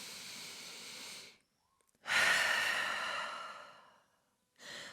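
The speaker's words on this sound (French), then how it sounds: "Grande respiration en chien tête en bas." Deep, audible breaths during a vinyasa yoga flow in downward dog: a long exhale, a pause, then a louder drawn-out breath lasting about two seconds and the start of another, close and breathy with no talk.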